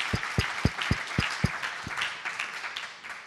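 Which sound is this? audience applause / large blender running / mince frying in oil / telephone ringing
audience applause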